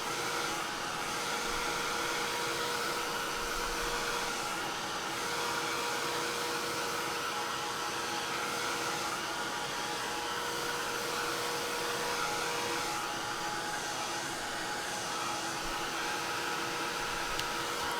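A hair dryer blows steadily on a crafted card painted with Dylusions paint, a loud continuous whooshing drone that holds without a break for the full stretch.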